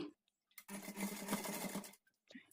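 A sewing machine stitches a blouse sleeve in one continuous burst of rapid, close mechanical whirring and needle clatter lasting over a second, framed by quiet handling noises before and after.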